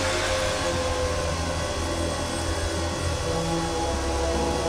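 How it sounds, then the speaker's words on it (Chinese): A chainsaw runs steadily in the horror video game Shin Hayarigami, giving a loud, unbroken motor drone with a buzzing low hum that holds level for the whole stretch, with no talk over it. "还有响起了那个电锯的声音"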